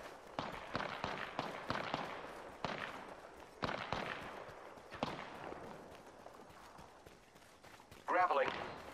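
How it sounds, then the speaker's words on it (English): Enemy gunfire in Apex Legends crackles in scattered bursts of sharp shots at mid distance over game noise and voices, ending with a louder close burst. "The enemies are shooting at me."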